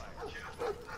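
A dog in Call of Duty Black Ops 4 gives two quick yipping barks, short and sharp, set against a busy game background with some voice-like sound mixed in.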